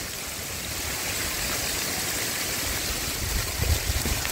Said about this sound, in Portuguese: É a água com força.